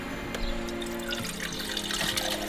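Water pours steadily into a pot through a strainer, a close, continuous splashing trickle that holds at an even level throughout.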